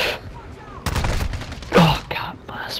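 Shotgun blasts ring out in Call of Duty, a few sharp, punchy bangs spaced irregularly across a couple of seconds, close and loud, with faint game noise between them.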